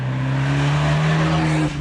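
An Abarth 124 with its 1.4 litre turbocharged four-cylinder engine holds a loud, steady drone at constant revs, close and continuous with no talk, cutting off briefly at the very end.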